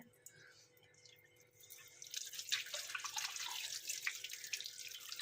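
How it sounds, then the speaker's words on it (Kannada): Tap water runs in a thin stream over fish pieces being scraped and washed one by one in a sink, a steady close hiss that grows louder and fuller after the first couple of seconds, with no talk. "ಸಣ್ಣಕ್ಕೆ ನೀರು ಬಿಟ್ಕೊಂಡು ಈ ಥರ ನೀಟಾಗಿ ಹಿಂಗೆ ಸ್ವಲ್ಪ ಕೆರೆದು ತೊಳ್ಕೊಂಡ್ರೆ"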